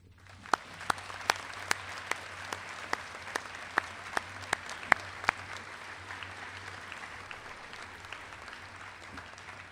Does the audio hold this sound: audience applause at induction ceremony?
yes